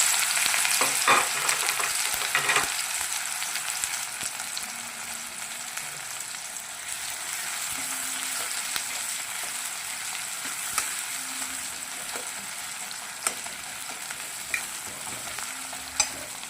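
Onions frying in a hot pan, a dense steady sizzle with clacking stirs at the start and occasional scrapes of the spoon, close and continuous, no voices.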